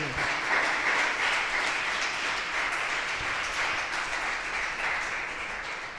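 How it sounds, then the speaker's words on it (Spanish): A church congregation claps and applauds steadily and loudly for the whole stretch, a dense, continuous patter that eases off only slightly toward the end. "Dale un fuerte aplauso a Dios, porque eso es para Él."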